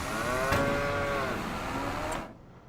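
Dairy cows on a Wisconsin farm with about 150 head: a long, drawn-out low moo carries steadily for around two seconds amid barn background noise, ending abruptly.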